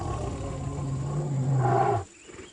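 Bengal tigers clash in the wild, giving a sustained deep growling roar that swells, then cuts off sharply and leaves a quieter rumble.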